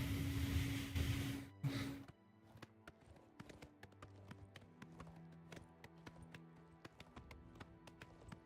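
Steady clip-clop of video game horse hooves, a run of sharp taps at a walking pace, following a louder noisy burst at the start.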